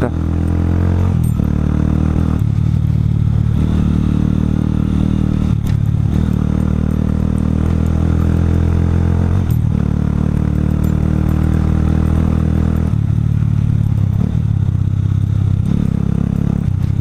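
A Romet K125 motorcycle rides through mud, its engine running loud and steady throughout with small shifts in pitch and some rattling clatter, close to the microphone.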